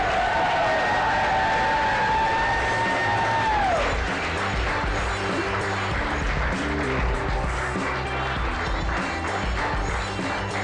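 Audience applause and cheering fill a runway show for artists and models, a dense, loud wash of clapping throughout, with a sustained tone fading out early on.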